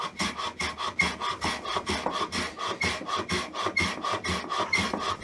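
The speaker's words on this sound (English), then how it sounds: "you're hand planing the entire load, the entire edge" Hand plane worked across the end grain edge of a wooden board, a rapid even series of about twenty rasping strokes, close and alone.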